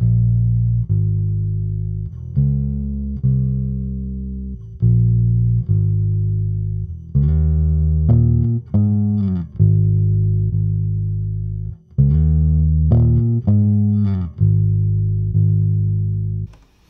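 Bass guitar run through a plugin effect, plucked notes in a steady repeating pattern with short rising fills, close, sustained and alone.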